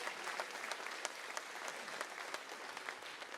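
Dense, sustained applause from a large audience at a birthday celebration event, honoring fathers, with sharp claps packed together at an even level throughout and no speech.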